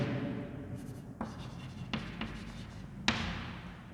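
Marker or chalk scratches across a classroom board in short strokes with a few taps, over steady room hiss during an accounts lesson.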